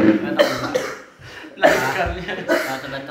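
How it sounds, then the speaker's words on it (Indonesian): Several harsh coughs come in bursts close by, mixed with a bit of speech and a short chuckle. "Aduh, aku batuk banget."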